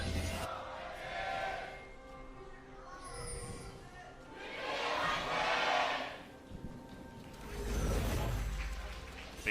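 A large esports arena crowd at an LCK 2019 Summer match, Griffin versus Hanwha Life game 2, roars in three rising and falling swells of cheering, with commentators talking throughout.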